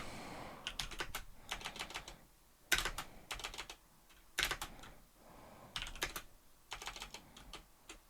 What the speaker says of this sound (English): I didn't even get to finish typing it up.